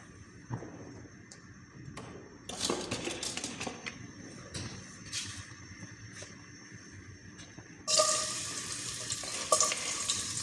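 Soft sizzling of garlic frying in a hot pan with clatter of stirring, growing louder near the end as the frying intensifies.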